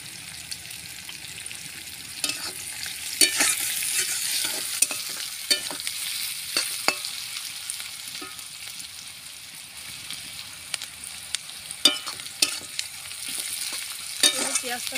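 Onions frying in a pan with a steady crackling sizzle, punctuated by repeated sharp scrapes and clacks of stirring, close and moderately loud.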